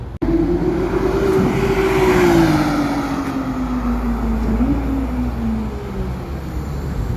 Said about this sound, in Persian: واقعا سریعه این ماشین.